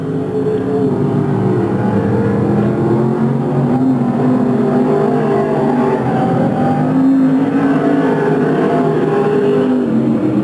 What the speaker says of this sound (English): Well, Brian Page trying to motor up now on the inside of the one of Billy Krall, a rookie.